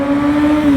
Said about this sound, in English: speed there on your crotch rocket